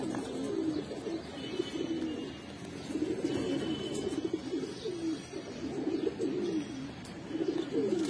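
Black-necked pigeons coo in a steady series of soft, rolling calls, close by and moderately loud, with continuous low murmuring throughout.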